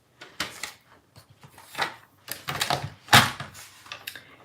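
Basic white card stock being cut for a Halloween stair step card, with irregular crisp snips and slices in short bursts, close and moderately loud, with no voices.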